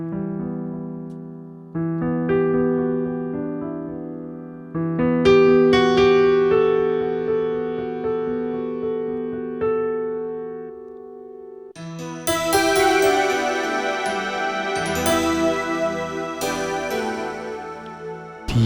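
Novation synth keyboard held tones switching from one patch to another with no cutoff, a sustained pad swelling and layering into a brighter, denser shimmering sound that carries on uninterrupted, moderately loud with no talking.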